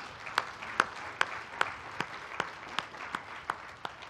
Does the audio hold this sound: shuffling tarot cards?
no